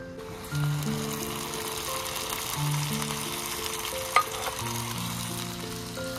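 Mutton pieces hitting hot oil in a frying pan, a steady broad sizzle that keeps going, with a short sharp clink partway through and a faint hum underneath.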